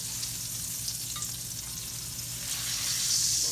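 Hamburger steaks browning in a skillet give a steady, close sizzle and hiss that swells slightly toward the end, with no talking.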